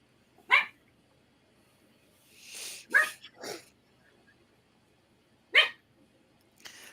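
A person imitates a dog's bark with a few short, sharp yaps spaced apart, close and fairly loud against a quiet background.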